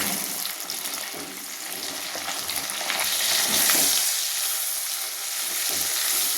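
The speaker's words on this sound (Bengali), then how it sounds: "এটা হালকা আর একটু নাড়াচাড়া করে নিয়ে আমি মশলাগুলো মেশাতে থাকবো।" Tomato and spices being stirred in a hot pan for an egg masala curry, with a steady close sizzle and occasional scraping stir sounds, no voices.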